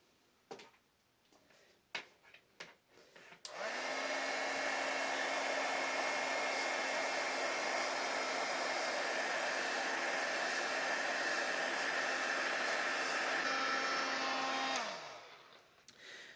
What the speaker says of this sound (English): now it's time to do the actual heat embossing. So I'm going to grab my heat tool.